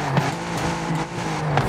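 A diesel pickup truck engine from the Car Pass in Forza Horizon 5 revs in a short burst, a loud droning motor note with brief tire noise, heard alone without talking.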